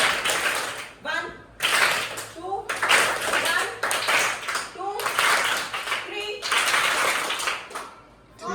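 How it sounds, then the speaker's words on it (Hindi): Children clapping hands in a classroom counting game, bursts of clapping in separate groups with short pauses between them, alternating with a teacher's and kids' voices speaking. "एक ही ताली बजानी है"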